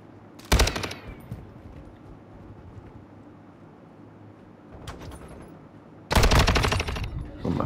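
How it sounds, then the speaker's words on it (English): Two loud bursts of rapid automatic gunfire in Modern Warfare 2, one early and one near the end, separated by quieter rumbling and a few faint distant shots. "that gunfire is so close"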